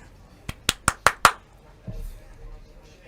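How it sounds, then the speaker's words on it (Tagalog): Five sharp, loud hand claps in a quick even rhythm, followed by a brief soft rustle and quiet room tone. "Ka pumapalakpak."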